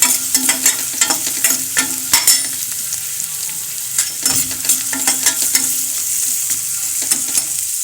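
Sliced onions fry in a pan for a papaya thoran curry, giving a steady close sizzle broken by repeated scraping stirs of a spatula, with no talking.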